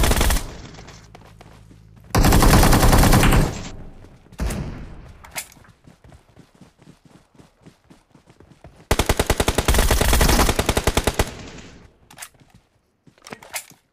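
Automatic gunfire in the mobile battle royale game Battlegrounds Mobile India, loud close bursts of rapid rattling shots in two long volleys with scattered single shots and thumps between them.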